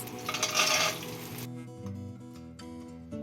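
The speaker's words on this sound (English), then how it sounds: "So she's roasting the peanuts." A brief burst of peanuts sizzling and being stirred in a pan fades out quickly, followed by quiet, soft background tones.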